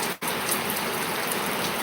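Steady rain pattering on surfaces, a dense continuous hiss of drops with a brief dip near the start, no voices.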